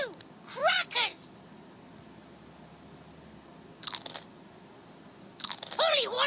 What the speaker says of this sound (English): Win a sticker for every 20 correct crackers you feed Polly.